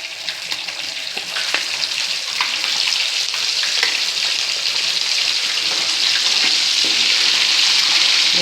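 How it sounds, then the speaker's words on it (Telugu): Chicken pieces deep fry in hot oil for chicken pickle, a loud, dense, steady bubbling sizzle with occasional clicks, close and alone. "చికెన్ అంతా ఓ దగ్గర వేసుకుని మళ్ళీ డీప్ ఫ్రై చూసారా, ఆయిల్ వేడెక్కింది."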